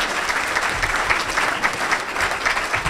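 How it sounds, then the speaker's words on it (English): Audience applause at a Kiwanis Club of Bradenton gathering, a steady full round of clapping from a crowd that holds evenly loud and dense for the whole stretch, with no voices over it. "let's give her one last round of applause"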